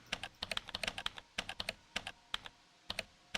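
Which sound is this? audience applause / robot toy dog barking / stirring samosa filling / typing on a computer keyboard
typing on a computer keyboard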